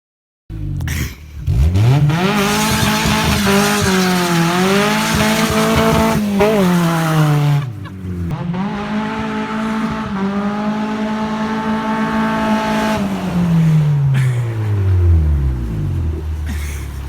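A Honda Del Sol race car driven hard in second gear, its engine roaring loudly and steadily with rising and falling revs and tire squeal, close and dominant with a brief dip partway through.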